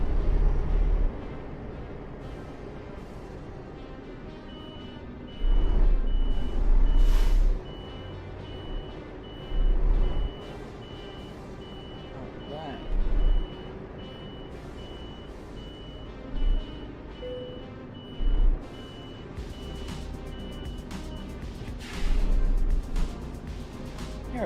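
A Volvo truck reverses to park in Euro Truck Simulator 2, its backup beeper sounding in repeated bursts over a steady low engine rumble and cab noise.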